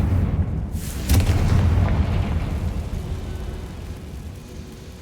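Confringo fire spell detonating in Hogwarts Legacy, a loud booming explosion with a sharp crack, followed by a long crackling, rain-like debris rumble that slowly fades over several seconds.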